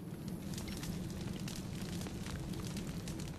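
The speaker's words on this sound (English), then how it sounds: "I have been exploded." A video game explosion in Assassin's Creed: Brotherhood, heard as a dense, sustained rumbling roar with crackling bursts, loud and steady for a few seconds, with no talk over it.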